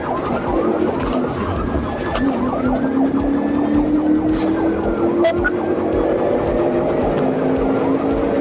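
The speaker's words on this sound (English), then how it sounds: "the police vehicle behind them with sirens blaring" Police car siren wailing loudly during a high-speed pursuit, its rising and falling tone sweeping continuously over steady road and engine noise.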